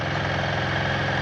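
A 2024 Royal Enfield Himalayan 450 motorcycle engine idles close by, a loud, steady, throbbing low rumble with an even pulse and no voices.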